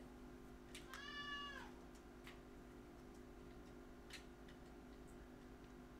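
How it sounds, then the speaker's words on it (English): A cat meows once inside a VR video game, a single short rising-and-falling call sounding faint and distant over a steady low hum, followed by a few soft ticks. "Here's the cat."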